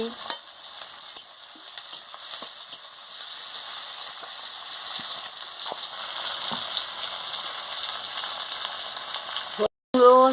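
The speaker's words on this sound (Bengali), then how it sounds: "এবার আমি টমাটম কুচি দিয়ে দিচ্ছি" Chopped tomatoes fry in hot oil for a catfish curry, giving a steady, close broadband sizzle with scattered small clicks of stirring, and a short loud clatter near the end.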